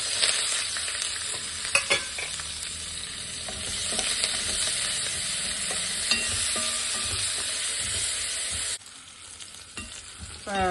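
Onions sizzle steadily in hot oil, with occasional scrapes and clinks of a spatula stirring the pan; no talking.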